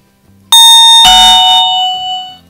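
A loud electronic alarm tone from a Bardi smart siren alarm blares suddenly, a bright ringing chime with a second burst layered in, then holds steady and fades out.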